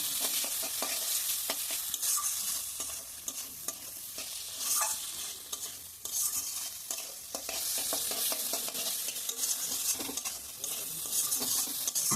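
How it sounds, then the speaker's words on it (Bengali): Soft boiled jackfruit seeds fry in a pan over medium-high heat, making a continuous close sizzle broken by repeated scraping stirring strokes throughout, with no voices. "আট থেকে দশ মিনিটের মতো এভাবে ভাজতে হবে"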